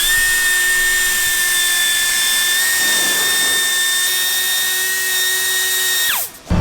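A grinder works a rough casting spot on a 4x4 driveshaft part, a loud steady high-pitched whine holding for about six seconds before spinning down at the end.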